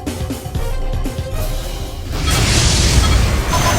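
A primary beam emplacement blowing up in the space combat game Freespace 2, a heavy rumbling explosion that swells midway and roars on to the end over ongoing battle noise.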